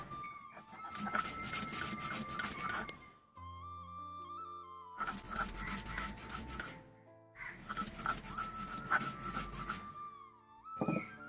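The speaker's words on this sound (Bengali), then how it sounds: "এখন আমি এই চালগুলো বেটে নেবো ভালো করে" Soaked rice is ground into a paste for palm-fruit fritters, making a continuous gritty rubbing and grinding noise in three long bursts separated by short pauses, with a faint whine underneath.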